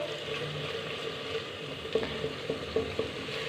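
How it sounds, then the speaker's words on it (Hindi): Tomato masala with peas frying for white chickpea curry, a soft continuous sizzle with a few light spoon taps and stirring scrapes near the end, close and fairly quiet. "इसे हम 2 से 3 मिनट के लिए मज़ीद भून लेंगे"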